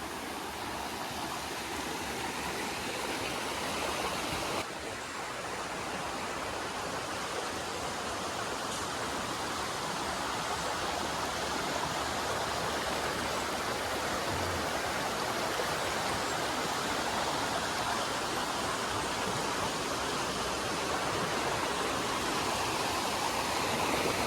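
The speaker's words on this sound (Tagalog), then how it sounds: "Kusog na yung baha gabi eh." Strong floodwater rushes past in a steady, broad roar, loud and constant throughout with no speech over it.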